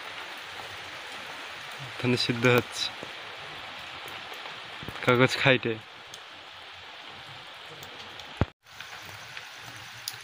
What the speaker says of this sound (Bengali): দেখে নাও, দিন দুপুরে বৃষ্টি।